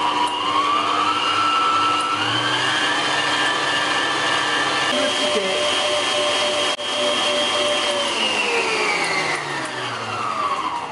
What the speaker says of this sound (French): je vais battre tout ça avec mon robot